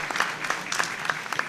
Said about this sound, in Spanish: quien recibimos con fuertes votos de aplausos